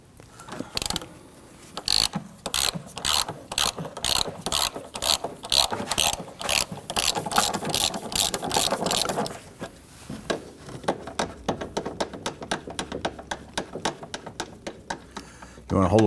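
A socket wrench ratchets rapidly on the rear shock absorber bolts of a 2009-2017 Volvo XC60, with close, loud clicking bursts that settle into faster, lighter clicks, while a person talks intermittently.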